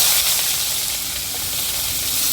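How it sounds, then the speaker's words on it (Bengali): Onions frying in a pan for a village-style crab bharta, a dense, steady sizzle close by that holds at an even level throughout, with no talking. "এবার একটু পেঁয়াজ ভাজি"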